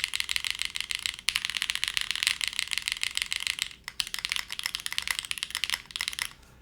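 Rapid, close clicky keystrokes on a Neo series mechanical keyboard with alpha keys, typed steadily with two brief pauses and no talking.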